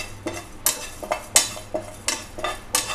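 A utensil stirs cumin seeds and fenugreek leaves dry roasting in a pan, making a run of sharp scraping and clinking strokes in an uneven rhythm, close and fairly loud, with no talk.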